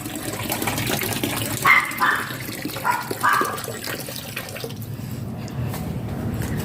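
Tap water pouring into a container as it fills, a steady rushing gush close by with a few brief louder splashes partway through before the flow quiets.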